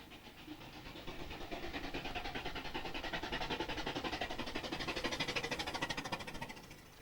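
Goddards' steam car passing on a 1995 touring rally between Silsden and Addingham, a steady rhythmic chuffing with hiss that grows louder as it approaches and stays close, with no talk.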